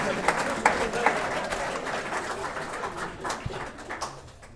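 Crowd at Comedy Works, a downtown comedy club, applauding and cheering for the staff, a steady wash of clapping with a few whoops rising over it, fairly close and lively throughout.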